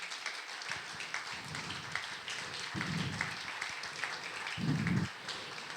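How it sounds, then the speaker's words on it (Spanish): An indoor audience in Santa Fe applauds to welcome guest speaker Ernesto Tenenbaum at a book presentation, a moderate, steady clapping that swells in places, with a few louder bursts near the end and faint voices underneath. "les pido que brindemos un cálido aplauso para recibir a Ernesto Tenenbaum"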